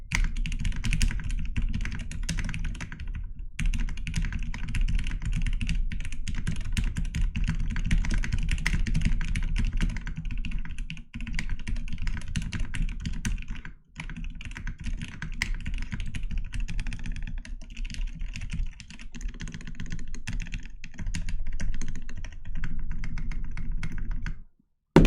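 Steady, continuous typing on a computer keyboard, dense clacking keystrokes close up with a few brief pauses, no voices.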